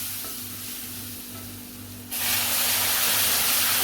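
Hot milk poured into roasted semolina for mango sheera sets off a sudden loud hissing sizzle that keeps going strong, following a quieter stretch of gentle frying.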